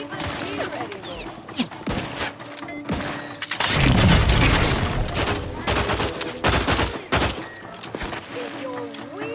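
Gunfire in the video game The Outer Worlds 2, with bursts of rapid shots and sharp single cracks, a dense louder volley in the middle, mixed with game sounds and spoken voices.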